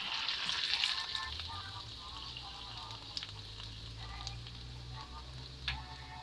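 Spicy ripe plantain chips (kelewele) fry in hot oil, a steady close sizzle and crackle with a few sharp scrapes and clicks as pieces are stirred and lifted out.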